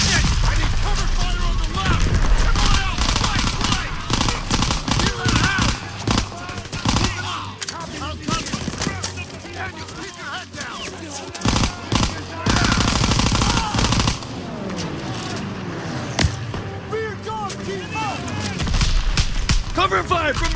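Sustained machine gun fire and scattered gunshots from a World War II battle in Call of Duty WWII, loud and dense throughout, with booming impacts and shouted voices mixed into the din.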